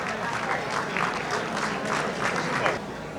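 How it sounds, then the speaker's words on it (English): Crowd applause at a Greek community parade celebration, steady dense clapping throughout at moderate loudness, with a voice mixed in beneath. "A round of applause for our committee, the parade committee that did so much."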